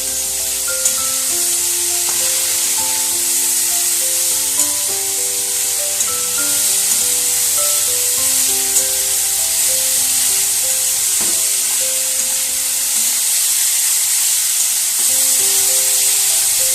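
Slit green chilies fry in a pan with a bright, continuous sizzle and occasional stirring, while soft tonal background music plays underneath.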